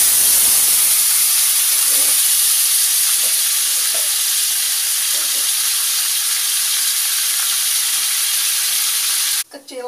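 Marinated chicken, 700 grams, frying in 100 grams of butter in a pan for sweet and spicy butter fried chicken, giving a steady close sizzle and hiss with faint stirring clicks, alone throughout.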